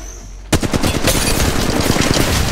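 Rapid automatic gunfire in Apex Legends Mobile breaks out after a brief quiet moment, a loud, close, continuous stream of shots with a steady rattling rhythm.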